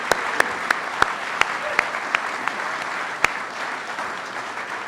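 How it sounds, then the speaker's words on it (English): A roomful of guests at a Wall Street awards gathering claps steadily for an honoree, a broad even wash of applause with a few sharp, close claps standing out, fading slightly toward the end. "Let's have a round of applause for Sean Kelly."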